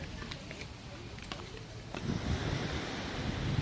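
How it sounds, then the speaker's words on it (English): Surf washing onto the beach at Carlisle Bay, Barbados, a steady broad rush with wind buffeting the microphone, the waves swelling louder in the second half. "The beach here at Carlisle Bay."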